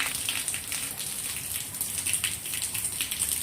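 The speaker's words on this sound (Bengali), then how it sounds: "দেখো বৃষ্টি হচ্ছে" Rain falls on a home courtyard where water has pooled, a soft, steady patter and hiss that stays faint and even throughout with no voices.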